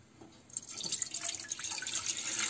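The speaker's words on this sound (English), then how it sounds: "So into this pan, I'm going to pour around 1 liter of water." About a liter of water pours into a pan on a stove for boiling noodles: a steady splashing hiss starts halfway through and continues at even strength to the end.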